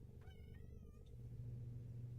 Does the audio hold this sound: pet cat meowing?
yes